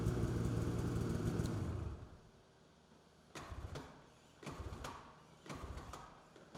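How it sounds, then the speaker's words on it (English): Polaris Patriot Boost Indy VR1 snowmobile engine idling loudly for about two seconds, then cutting off, followed by three short bursts of restarting and stopping, close and without talk. "Restart the engine and ensure the engine turns off when the ignition switch is turned off."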